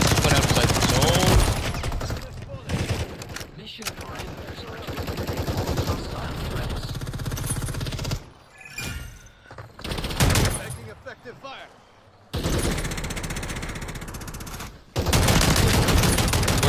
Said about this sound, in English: Where is this person that's shooting at me?